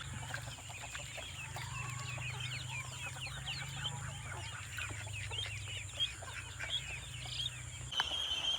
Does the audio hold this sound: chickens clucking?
yes